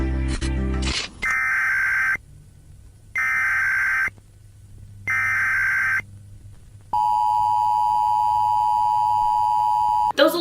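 A broadcast emergency weather warning sounds loud electronic alert tones: three evenly spaced bursts of a steady beep, then one long unbroken tone, with a faint low hum underneath.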